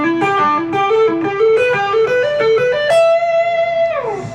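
Electric guitar with effects plays a four-note sequence in a rhythmic displacement, a quick run of rising plucked notes ending on a sustained note that bends and fades, loud and upfront with no talking.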